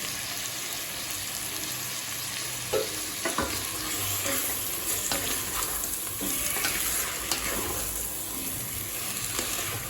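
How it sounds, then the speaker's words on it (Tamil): Half a kilo of chicken sizzles and fries in a pan of masala with salt and curd for Thalappakatti-style biryani, with steady frying hiss and intermittent scraping stirs throughout. "சிக்கன் சேர்த்துட்டு நல்லா வதக்கிக்கலாங்க"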